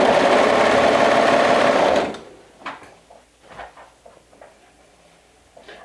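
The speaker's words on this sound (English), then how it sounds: "go ahead and stitch your front and back skirt pieces together at the side seams" A sewing machine stitches the side seams of a skirt in a fast, steady, close whirring burst for about two seconds, then stops, followed by soft fabric handling and light taps.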